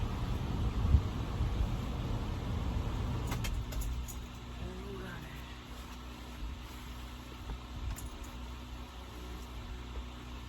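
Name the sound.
car engine being turned off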